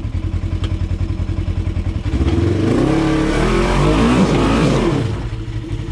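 Off-road vehicle engine on a Windrock trail idling with a rough rhythmic chug, then revving hard and holding high as it climbs over a rock before easing back, loud and close.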